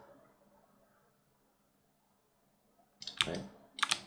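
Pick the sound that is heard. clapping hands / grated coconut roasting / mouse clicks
mouse clicks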